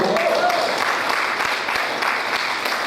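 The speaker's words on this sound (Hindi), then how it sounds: "शानदार ताली चाहूँगा।" Crowd clapping at a gathering after a call to honour someone, a continuous patter of hands with some distinct claps and voices mixed underneath, moderately loud throughout.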